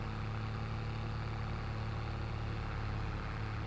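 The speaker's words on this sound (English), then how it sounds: "I do love this Massey. It is a very, very nice tractor." Massey tractor engine running steadily with a low droning hum and rasp, constant and fairly close, no voices over it.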